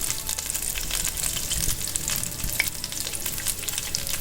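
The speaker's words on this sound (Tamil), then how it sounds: "இப்போ அதே ஆயிலில் பிரிஞ்சி இலை, பட்டை, கிராம்பு, சோம்பு," Bay leaf, cinnamon, cloves, fennel seeds and peppercorns fry in hot oil for a chicken drumstick curry, giving a dense, continuous bright crackle with scattered tiny pops, close up and with no voices.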